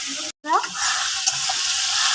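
Onion and tomato frying in oil in a pan, a dense close sizzle broken by a brief silent gap, then resuming steadily with a faint stir.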